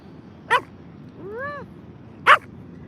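A dog gives two short, sharp barks about two seconds apart, with a soft rising whimper between them, heard at moderate distance in an indoor yoga session with no talking.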